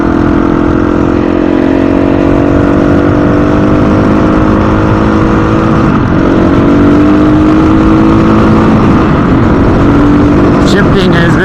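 Husqvarna-style FE350s motorcycle engine droning steadily while riding after modifications, loud and close with a constant roar, wind buffeting and shifting pitch as the bike holds speed, and a voice talking over it.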